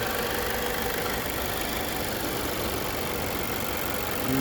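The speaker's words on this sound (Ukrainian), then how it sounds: "Двигун працює ідеально" A Mazda 6 2.5 Turbo Skyactiv engine idles steadily, a constant low mechanical hum and rattle with no talking.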